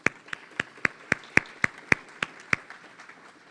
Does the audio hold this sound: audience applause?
yes